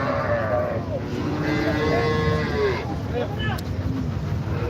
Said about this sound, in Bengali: হাটে সবে মাত্র গরু আসা শুরু করেছে